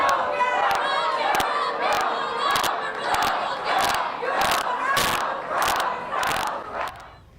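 Protesters booing the governor-elect as he is led off the stage at an election event. A loud, sustained crowd roar of jeering and shouting swells and dips, broken by sharp, regular percussive bangs.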